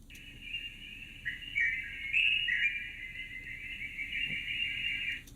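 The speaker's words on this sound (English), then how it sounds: "And then birds down here." Birds call in an outdoor soundscape recording, a sustained warbling high-pitched song running steadily for several seconds over faint low ambient background noise, no voices present.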